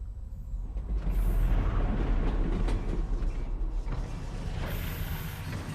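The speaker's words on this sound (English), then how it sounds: "Did the train stop?" A moving train in the VR game Half-Life: Alyx, a low rumbling roll with creaks and mechanical clanks, swelling after a quiet start and holding steady, with brief high whines near the start and end.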